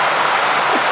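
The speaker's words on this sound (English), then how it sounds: "I don't know if you guys can see this rain" Rain falls at night in Jamaica as a steady, dense hiss, loud and close, with no talk.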